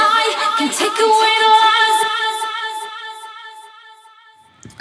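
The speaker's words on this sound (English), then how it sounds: "I've put a delay on here, echo boy, and I'm just using a quarter note delay, fair bit of feedback going on here, bunch of saturation" Sung vocal line run through an Echo Boy quarter note delay with heavy feedback and saturation, the phrase trailing into repeating echoes that slowly fade away.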